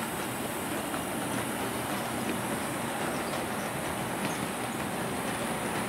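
HO scale model Amtrak train running on a home layout, a steady close rumble of wheels on track that holds at an even level for the whole stretch with no pauses, no one speaking.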